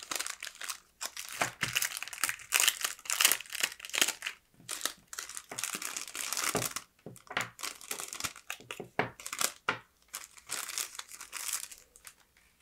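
Crinkly plastic packaging from a washi tape order being opened and rustled close to the mic, with irregular bursts of sharp crackling and crumpling separated by brief pauses, no voices.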